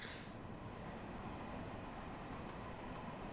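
A low, steady rumble of a Long Island Rail Road M3 train running along in Train Simulator, continuous and fairly quiet with no voices.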